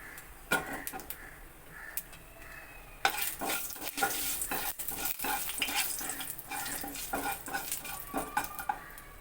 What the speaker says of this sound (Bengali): তেলটা আমার গরম হয়ে গেছে এবার এতে আমি হাফ চা চামচ কালো জিরে দিয়ে দিচ্ছি ফোরনে